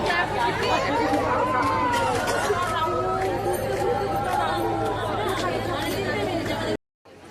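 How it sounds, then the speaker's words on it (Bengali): A dense crowd chatters at the Gangasagar jetty ghat before the Makar Sankranti pilgrimage, many overlapping voices forming a continuous busy hubbub nearby, ending in abrupt silence. "দেখুন জেটির ঘাটে কি পরিমাণ ভিড়"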